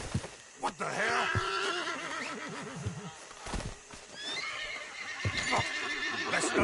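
A horse whinnies loudly in repeated bursts in the video game Red Dead Redemption, with hoofbeats clopping and a person's voice breaking in between the neighs.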